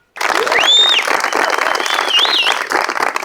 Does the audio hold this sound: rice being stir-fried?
no